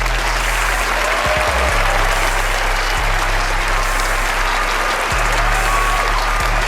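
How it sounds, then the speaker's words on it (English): Loud, dense clapping from a crowd fills the whole stretch, a sustained round of applause with a faint low hum beneath. "you gotta get a cable management a round of applause"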